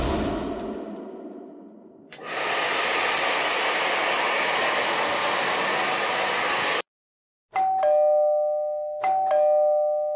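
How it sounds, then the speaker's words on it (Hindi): A doorbell chimes twice with clear ringing tones after a long, steady roar of an air conditioner and hair dryer running, the noise cutting out briefly before the bell. "एसी और हेयर ड्रायर की आवाज के ऊपर भी बेल की आवाज साफ सुनाई दे रही है"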